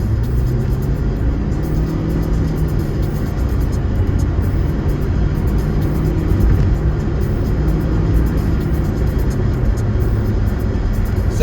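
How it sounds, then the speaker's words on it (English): A car engine strains at a steady low drone while getting up to speed on a highway, with constant road rumble and a faint rising pitch throughout. "Sounds like I'm making my car do a shitload of effort just to get up to speed"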